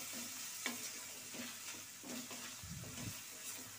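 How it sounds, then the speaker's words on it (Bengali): Small pieces of chicken sprinkled with salt fry and sizzle in a pan for chow mein as a utensil stirs them, with a steady sizzle broken by soft scraping strokes up close. "লবণটা দিয়ে আবার একটু নেড়ে নিচ্ছি।"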